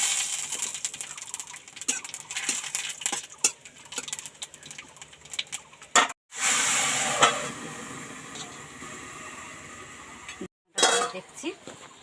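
Panch phoron spices hit hot oil in a kadai for a drumstick curry, giving sharp bursts of hissing sizzle between stretches of scraping, clinking stirring and brief silent gaps.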